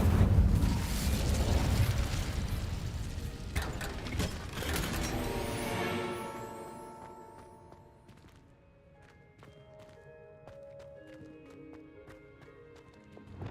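The Incendio fire spell cast in the Hogwarts Legacy video game, a loud whooshing fiery burst fading over several seconds into quieter crackles and faint clicks.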